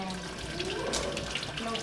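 Cold water pours steadily from a tap at a homestay, a continuous splashing stream with a hint of voices in the background.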